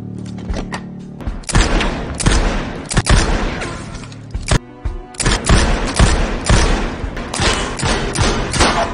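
Gunfire at shooting practice in an action film, loud close bursts of rapid shots and single reports in irregular clusters with thuds and short pauses between volleys.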